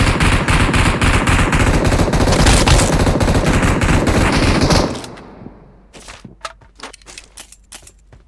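Rapid automatic gunfire in the PUBG Mobile video game, loud continuous bursts shooting at a bot, cutting off abruptly midway and followed by a few scattered shots and footsteps.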